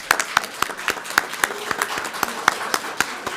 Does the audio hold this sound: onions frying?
no